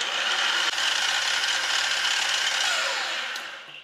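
A miter saw motor runs steadily at reduced voltage, spinning slower than normal, a continuous whirring hum with shifting tonal bands that fades slightly near the end, close and alone.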